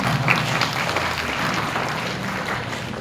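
An audience at a university grand opening ceremony in Surakarta applauds steadily, a dense wash of clapping that holds even for about three seconds with no voices over it.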